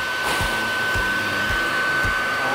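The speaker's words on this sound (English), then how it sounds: "I like to do the vacuum when we're cutting out of structures or even a beehive that's up in the tree" A bee vacuum drones at a steady, loud pitch during removal of bees from a hive in a tree, with faint regular thumps beneath the motor.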